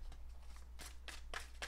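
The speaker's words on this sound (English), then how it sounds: "I could be shuffling all day." Tarot cards being shuffled by hand for a Gemini love reading, a series of crisp riffling bursts repeating about every third of a second over a steady low hum, fairly quiet with no talking.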